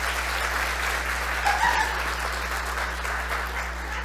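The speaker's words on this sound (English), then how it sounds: "just give her another round of applause" An audience applauds steadily at a launch event, a dense, even wash of clapping over a low hum that lasts throughout.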